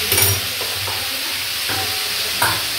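Vegetarian curry of pumpkin, eggplant, pointed gourd and potato cooking in a pan. A steady close sizzle carries a few scraping strokes of a stirring utensil spaced through the brief moment.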